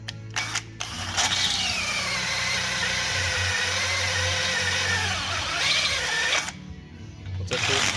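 A reamer spins on a battered Suburban during roof and hitch work, giving a steady high whine for several seconds that rises in pitch and then cuts out, with clicks and handling noise at the start and end.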